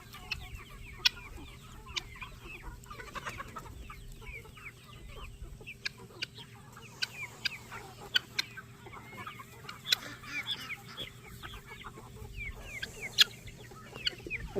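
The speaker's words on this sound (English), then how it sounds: "Where that little chicken come from?" Chickens cluck in short, scattered calls across a farmyard, with occasional sharper peaks over a steady low background hum; no talking is heard.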